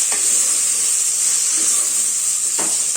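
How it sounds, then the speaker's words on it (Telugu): A spoon stirs a chili powder mixture frying in a pan, a steady close sizzle and hiss with occasional scraping strokes and no talk. "మళ్ళీ ఒకసారి బాగా కలుపుకోవాలి."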